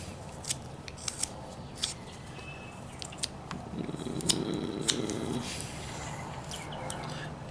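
Wood carving of a fox figure: a knife makes sharp, irregular little snicks and clicks as it cuts into the wood, close and fairly quiet over a soft background hiss.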